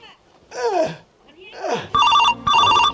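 A telephone rings in two electronic bursts with a short gap, following a couple of brief voiced sounds at the start.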